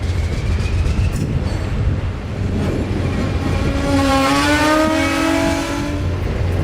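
An old Alco diesel locomotive, number 251, backs onto passenger cars with a loud, steady engine rumble and rising whine, and a drawn-out wheel squeal sounds close by.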